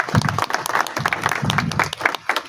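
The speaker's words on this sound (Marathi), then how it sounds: "सत्कारासाठी जोरदार टाळ्या झाल्या पाहिजे." Guests at a felicitation ceremony for a memorial committee anniversary clap loudly, individual hand claps clearly audible in an uneven, lively burst close to the microphone.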